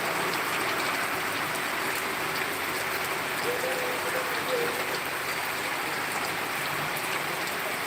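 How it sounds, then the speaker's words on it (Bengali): Steady, dense rainfall patters evenly on surfaces for the whole stretch, a continuous hiss without pauses and with no voices. "রহমতের বৃষ্টি শুরু হয়ে গেছে।"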